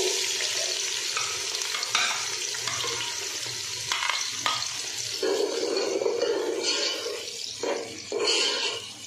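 Onions sizzle and crackle in hot oil as a spoon stirs and scrapes the pan, with bursts of louder hissing throughout.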